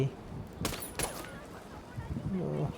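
Gunfire in the video game Ghost Recon Wildlands, with two sharp close shots about a third of a second apart, followed by quieter rumble as a voice talks underneath.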